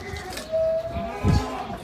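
Goats on a small family goat farm in Taiwan give a nasal bleat, followed by a lower, rougher animal call a moment later, close by against faint background noise.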